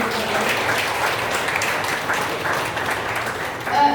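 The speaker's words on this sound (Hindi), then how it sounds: "एक बार जोरदार तालियां" An audience applauds a Hindi humor poetry recitation, a dense wash of clapping holding steady at even loudness for the whole stretch, with a slight swell near the end.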